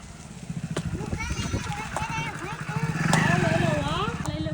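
A motorcycle passes by on a village lane, its engine hum rising then fading while children play and people talk nearby.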